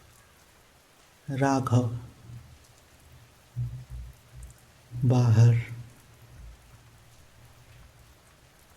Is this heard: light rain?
yes